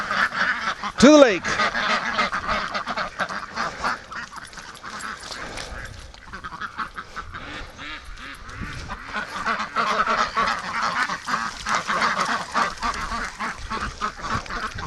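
Ducks and geese call in a free-range flock heading to a lake, with quacks and honks scattered throughout near and far, under a person talking and calling to the birds.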